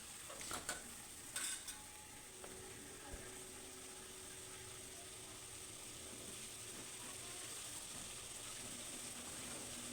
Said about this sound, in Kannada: ಎಣ್ಣೆಯಲ್ಲೇ ಇದು ಚೆನ್ನಾಗಿ ಫ್ರೈ ಆಗಬೇಕು.